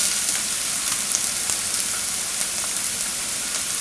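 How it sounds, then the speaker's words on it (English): Onions and ginger fry in hot extra virgin olive oil in a pot, a steady, even sizzle like light rain that holds at a constant level with no talking. "Once it's hot, we're going to add the onions and the ginger to it."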